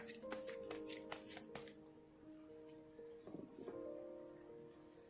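Gypsy fortune-telling cards are shuffled in quick crisp riffles, then a few softer slides and flips follow as they are turned over on a table, with a low hum underneath and no talking.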